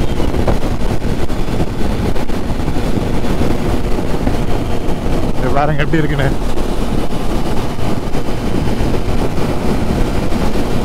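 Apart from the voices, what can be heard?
strong headwind while riding a Triumph Street Triple motorcycle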